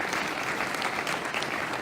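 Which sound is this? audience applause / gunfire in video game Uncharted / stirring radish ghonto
audience applause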